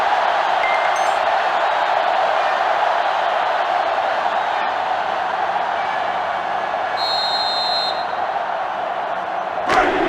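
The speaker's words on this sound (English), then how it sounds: "This sellout crowd is really making a difference now as these guys can't even call the play" Loud, steady roar of a sellout stadium crowd in the NCAA Football 07 video game, a continuous wash of cheering that rises through the play, with a brief whistle-like tone partway through and a sharp thump near the end.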